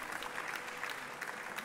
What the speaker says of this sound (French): le Sénat tout entier se lève pour l'applaudir